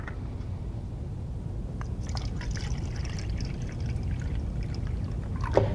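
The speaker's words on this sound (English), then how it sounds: "in your first cup, you're going to add 1 cup of water" Water poured into a cup, a steady close liquid trickle with a splash near the end, no voices.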